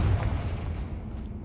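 A Confringo fire-blast spell in Hogwarts Legacy bursts with a heavy, continuous low rumble that fills the whole moment, loud and close, slowly easing off without any talk.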